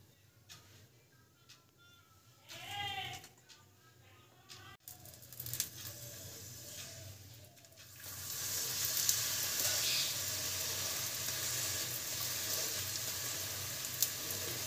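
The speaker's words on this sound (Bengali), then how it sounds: "মা তেল দিয়ে দিচ্ছে।" Radish paratha fries in oil on a hot tawa. Faint handling noises come first, then a steady sizzle swells and holds through the second half.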